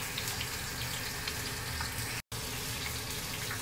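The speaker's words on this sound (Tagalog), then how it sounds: "Nagpiprito lang ako ng isda." Oil sizzles and crackles steadily as fish fries in a pan, a dense continuous hiss with faint pops, no talking.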